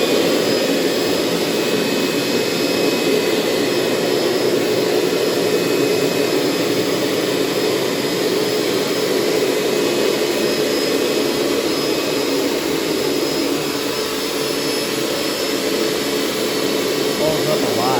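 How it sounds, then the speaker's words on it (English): A Hoover Steamvac Plus carpet cleaner shampoos carpet with a loud, steady motor whine and suction roar that runs without a break throughout. "Let's try shampooing for the first time."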